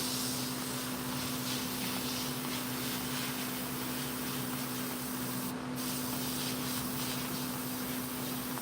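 Diluted paint is sprayed through a wide nozzle onto chainsaw carvings, a continuous close hiss running unbroken throughout with a steady mechanical hum beneath.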